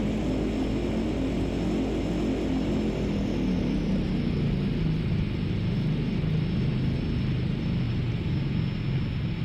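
Embraer E175 jet engines in X-Plane 11 rolling onto the runway: a steady, loud, continuous broadband roar with low rumble, unbroken for the whole stretch with no talk.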